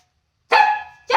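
A dog lets out two sharp, loud barks close by, the second cut short, with silence before the first.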